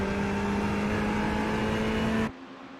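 Engine roar of a Ferrari race car in the iRacing sim during the Bathurst 12 Hour, a steady loud drone with a sustained pitch that cuts off abruptly near the end.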